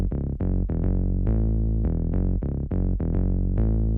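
A synth bass line for a progressive house drop pumps out a run of short, punchy, buzzy notes in a syncopated rhythm, deep and loud with a gated, pulsing feel, heard alone without talk.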